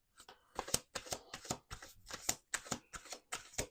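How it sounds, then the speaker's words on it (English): Tarot cards being shuffled, a run of about nine quick riffling bursts in steady rhythm, close and fairly loud, with no voices. "Let's do 2 more shuffles."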